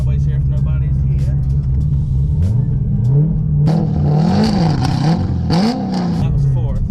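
A straight-piped, cammed 500 WHP C6 Corvette V8 revs hard up close, its deep rumbling exhaust rising and falling through several sharp throttle blips as the driver pitches it sideways.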